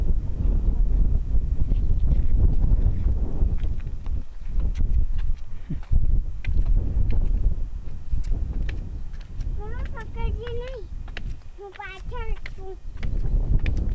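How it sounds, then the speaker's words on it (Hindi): Strong wind blows across a hillside near Bhuj, buffeting the microphone with a loud, continuous low rumble, while a voice briefly speaks over it toward the end. "काफी अच्छी हवा चल रही है यहाँ पे।"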